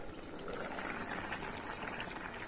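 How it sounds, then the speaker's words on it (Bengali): A little water poured over vegetables in a pot set to boil: a continuous, rushing, splashy wash of liquid noise at an even level for the whole moment, with no voices. "এরপর সামান্য একটু জল দিয়ে এই সমস্ত সবজিগুলোকে সেদ্ধ হতে দিয়ে দেব"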